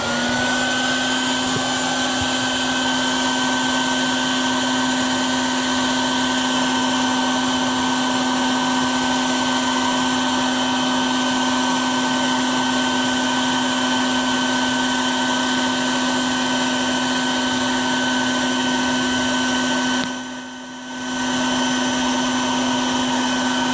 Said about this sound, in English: I'll go ahead and vacuum a few more right now